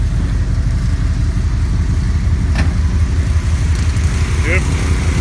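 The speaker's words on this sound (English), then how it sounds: "I hear generators." Generators run outdoors on an overcast Sunday morning, making a continuous, loud, low engine-like drone that holds steady throughout with no breaks.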